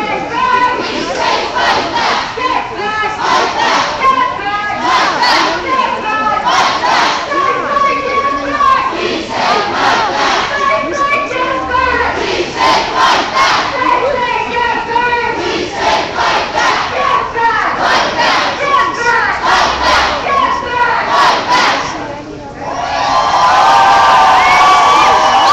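A crowd of a few hundred people at a women's rights march chants loudly in repeated rhythmic bursts, then breaks into sustained cheering and whooping near the end. The sound is close and energetic.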